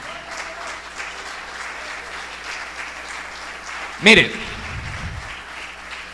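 A church congregation at a Bible study claps for the Lord: a dense, steady wash of applause runs throughout beneath a man preaching, with one brief louder burst near the middle.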